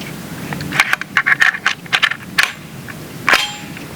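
BinTac S45 .457-caliber big bore semi-auto air rifle firing at 50 yards: a quick string of sharp, loud cracking shots with metallic clangs, then a short pause and one more shot.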